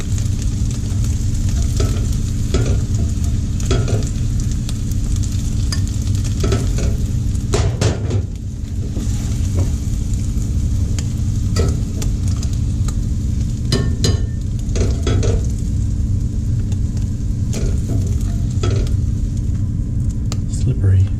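Eggs and quinoa are scooped out of a frying pan, a low sizzle under a series of scrapes and knocks from the utensil on the pan. The sounds come close and fairly loud, with a low background rumble and hushed speech-like sounds.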